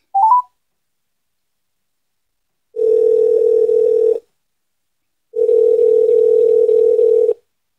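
Telephone line tones sound after a caller hangs up: a short rising blip, then two long, steady, loud beeps of about one and a half and two seconds, separated by silence.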